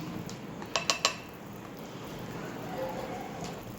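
A spoon clinks sharply against the pan three times in quick succession while gram flour is stirred into hot ghee for Mysore pak, then a soft steady hiss continues underneath.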